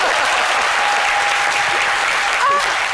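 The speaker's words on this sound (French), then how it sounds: "là, on applaudit parce qu'on est en joie, n'est-ce pas?" Audience applauding at a presentation event, dense, loud and sustained clapping for the full three seconds, with a faint whistle-like tone briefly running through it.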